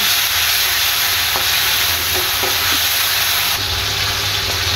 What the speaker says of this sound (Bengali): এখন আদা রসুনটা ভেজে নেব, আদা রসুনের কাঁচা গন্ধ যাওয়া পর্যন্ত